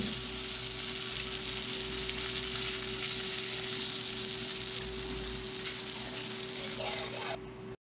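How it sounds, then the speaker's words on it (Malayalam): Pieces of kilimeen (threadfin bream) fish frying in hot oil give a steady, close sizzle and crackle that runs unbroken, then drops away abruptly near the end. "വറക്കായി അപ്പോൾ മീൻ കഷ്ണങ്ങളൊക്കെ ഉണ്ട് ഇട്ട് കൊടുക്കാം മൂന്ന് കഷ്ണങ്ങൾ മറിച്ചിട്ട് കൊടുക്കാം"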